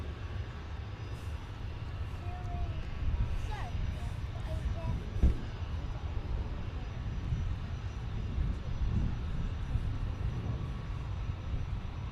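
A passenger jet sits lined up on runway 25 at London Luton Airport, its engines giving off a steady low rumble at a distance that holds for the whole stretch, with faint faraway sounds now and then.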